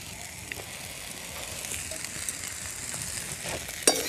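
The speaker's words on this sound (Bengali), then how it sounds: "ঝুড়ো করে রাখা ডিমটা দিয়ে দিচ্ছি।" Beaten egg poured into spicy pasta in a hot pan sizzles softly and steadily, with a sharp clink of a utensil near the end.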